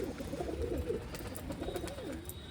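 Pigeons coo softly in a loft, low throaty burbling calls repeating over a steady background hum, with no voices.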